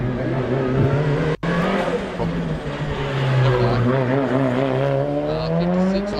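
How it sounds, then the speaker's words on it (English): A Datsun Sunny storms up a mountain hillclimb course at a race event, its engine revving loudly and rising in pitch through gear changes, heard close, with a commentator talking over it. "Got the little Datsun Sunny now, storming up the mountain."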